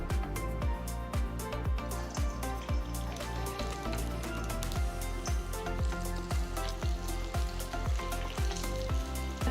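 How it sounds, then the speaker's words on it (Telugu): Small spoonfuls of punugulu batter frying in hot oil for Vijayawada street-style snacks, a dense continuous crackling sizzle with a regular rhythmic pulse, close and steady. "సిజ్లింగ్ సౌండ్ రావాలి వేసిన వెంటనే సో ఇట్లా నూనె రెడీ అయిన వెంటనే మీరు పునుగులు వేసుకోవచ్చు"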